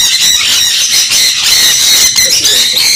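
Pet parrots at a Kolkata bird farm, among them conures, cockatiels, lovebirds and crimson-bellied conures, squawk shrilly and continuously, a loud, dense chorus of harsh, piercing calls close by.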